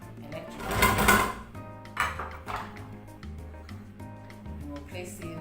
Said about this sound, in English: So place your pot in your electric cooker